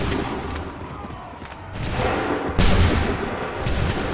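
Musket volley gunfire in the Assassin's Creed 3 video game, a loud continuous crackle of massed shots with bursts of louder cracks, the heaviest salvo arriving midway through and another swell near the end.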